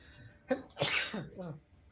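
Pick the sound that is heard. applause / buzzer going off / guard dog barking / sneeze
sneeze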